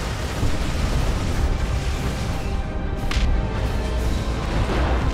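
A continuous roar of distant artillery fire and explosions from a creeping barrage in Dawn of War II: Retribution rumbles steadily, a dense barrage with no clear gaps and a faint whoosh partway through.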